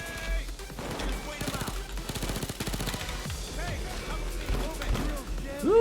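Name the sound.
AS Val Valkyria rifle gunfire in video game Payday 2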